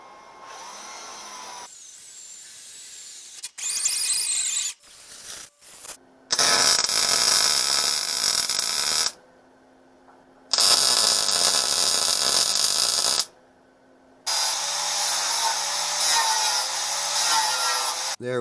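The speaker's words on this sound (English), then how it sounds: "I'm just going to get drilling" A power drill whines loudly in several long bursts, stopping and starting with short quiet gaps between runs, drilling holes at marked points on a model's nose.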